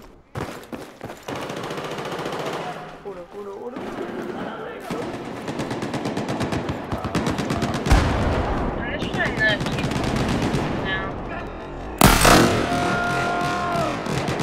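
Rapid automatic gunfire in the video game Battlefield 4 rattles in long, dense bursts with short breaks, loud and close, ending in a sharp heavier blast, while players talk over it at times.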